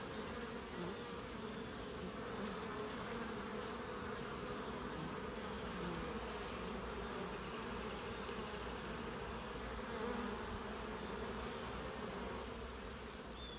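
Honey bees buzzing around beehives in a bee yard during goldenrod bloom, a steady, even drone of many bees throughout, moderately faint, with no talking.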